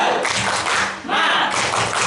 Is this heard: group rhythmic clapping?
yes